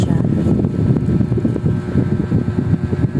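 A noisy electric fan runs in a home, giving a steady, loud, broadband whir with a low rumble that fills the whole stretch without pauses and with no talk.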